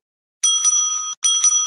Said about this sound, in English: the bell will be rung twice